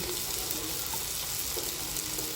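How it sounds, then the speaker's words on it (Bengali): Onion and garlic frying in a pan with fresh salt and green chilies, a steady close sizzle with faint stirring scrapes underneath. "নতুন লবণ দিয়ে দেবো পেঁয়াজ আর রসুন"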